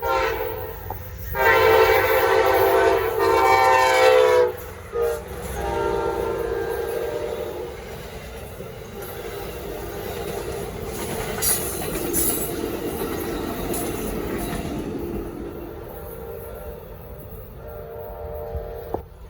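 Amtrak 19, a passenger train with new Charger locomotives, passes on a Norfolk Southern line in Gaffney, South Carolina: a loud horn blast, then a steady rumble and rolling wheels that fade slowly as it goes by.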